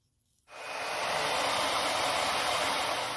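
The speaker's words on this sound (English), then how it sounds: "I also used a hairdryer for the second clip, acting as our wind" A hair dryer blowing on a small wind turbine generator starts up after a short silence and then runs as a steady, even whooshing rush of air, with no voices.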